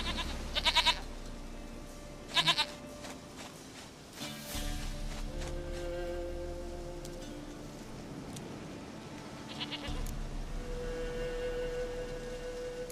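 A goat in The Witcher 3 gives a few short, clear bleats, with a quieter bleat later, over soft ambient game music and low background tones.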